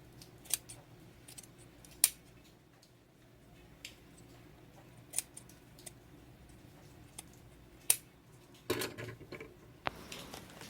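Sharp scissors snip through the seam allowance at the sleeve and armhole of a men's knit shirt, isolated crisp clicks spaced a second or two apart in a quiet room.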